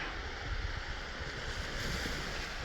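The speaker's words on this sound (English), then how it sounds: "A local beach" Waves washing in at a local beach, a continuous close surf rush with gusty wind buffeting the microphone and no voices.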